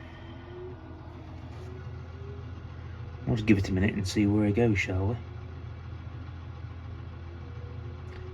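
A Massey Ferguson tractor hitched to a trailer idles nearby with a steady, low, continuous rumble, and a person speaks briefly partway through.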